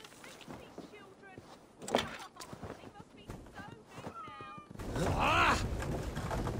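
Cats meow repeatedly in Assassin's Creed Valhalla, several rising wails scattered among game sounds, with a louder, longer yowl near the end and someone talking between them.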